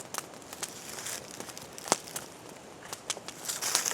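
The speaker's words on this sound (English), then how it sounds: "Crackling you hear in the background is a fire." A fire burning off unburned lawn rake particles crackles in the background, with scattered sharp pops and snaps over a low steady hiss, fairly faint and irregular.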